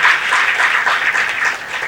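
An audience applauds donors at a talk about books, giving a short burst of dense, steady clapping from many hands in a hall, fairly loud and with no voices over it.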